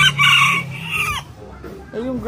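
A tiny Serama chicken crows loudly up close, a strained, drawn-out call, followed by a few short clucks.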